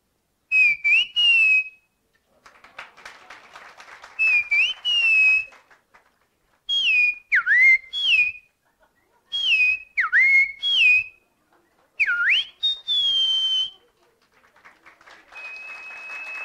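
A person whistles a bright, warbling imitation of the common iora's call in repeated short phrases separated by pauses, with faint clapping and crowd noise between some phrases.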